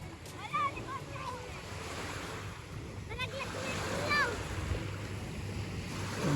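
Waves washing against the shore with wind buffeting the microphone, while several voices talk and call out over the surf.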